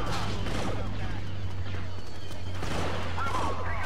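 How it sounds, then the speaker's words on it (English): Rapid bursts of pistol gunfire from the Star Wars Battlefront 2 video game, a modded hero match, crackling over a dense steady battle din with a constant low hum throughout. "this pistol is pretty overpowered, see? I mean, you get three shots and they're dead"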